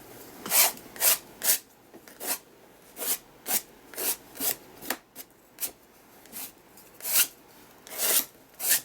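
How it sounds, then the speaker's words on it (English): A spatula drags paint across a mixed-media art journal page in a run of short, scraping rasps. The strokes come about every half second and sound close and dry, with no talking. "back to the spatula. This time, let's just drag it."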